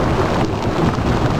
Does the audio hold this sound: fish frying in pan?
no